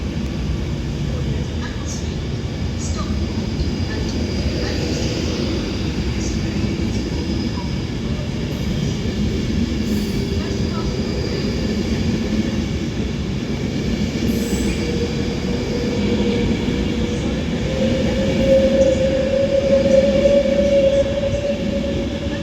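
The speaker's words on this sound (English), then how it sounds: "departs Stoke-On-Trent now with the 11:13 Avanti West Coast service" Avanti West Coast service departing Stoke-on-Trent station on the West Coast Main Line toward London Euston: a loud, steady rumble of the moving train, with rising engine tone and a high wheel squeal near the end.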